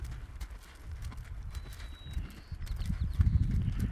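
Horse hooves clip-clop rhythmically over the ground during riding training for lead changes, moderately near and growing louder toward the end.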